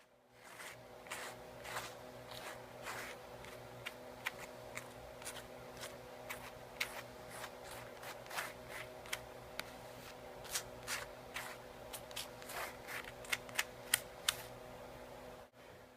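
A plastic gift card scrapes and spreads acrylic paint across a canvas in a run of short, repeated scraping strokes, close and faint over a low steady hum.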